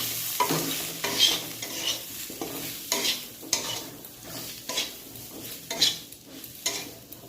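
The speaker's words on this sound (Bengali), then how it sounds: "এবার আমি এতে জিরের গুঁড়ো, ধনের গুঁড়ো দিয়ে দেবো, দিয়ে আবার একটু নাড়বো।" Cumin and coriander powder fry with beans in a pan while a spoon stirs, giving a soft steady sizzle broken by rhythmic scraping strokes against the pan, close and fairly quiet.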